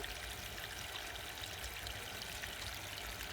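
River water flowing near a Kerala farm, a steady broadband rush that fills the whole clip without a break, with no voices over it.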